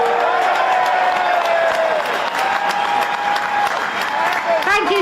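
A crowd of farmers claps and cheers for Kemi Badenoch at a rally, with dense, sustained applause close by while a voice calls out over it.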